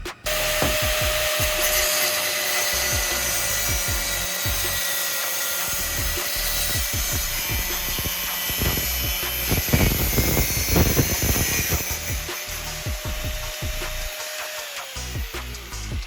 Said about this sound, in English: Next, use a cutting tool to carefully cut off the top part of the can.